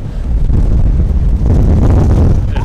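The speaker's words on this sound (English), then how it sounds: "It's a little windy here" Loud wind in Melbourne buffets hard against the microphone, a constant low roaring rumble with rough gusty bursts throughout.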